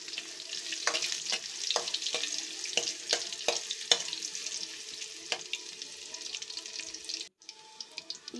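Curry leaves and crushed garlic fry in hot oil in a pan, giving a steady, close sizzle with a scatter of sharp pops and crackles throughout, with no talking.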